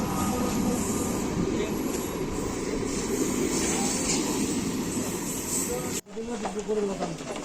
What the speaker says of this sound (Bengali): এই দেখো ট্রেন চলেই গেল